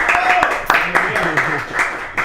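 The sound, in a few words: audience applause for María Luisa Ferreira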